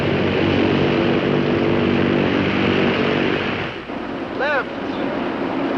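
Four-engine Super Constellation piston airliner running up its engines before takeoff, a loud steady propeller drone that dips briefly as the engine note shifts, with a faint voice near the end.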